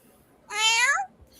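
A single clear, drawn-out cat meow, close and fairly loud, rising then falling over about half a second in a quiet room.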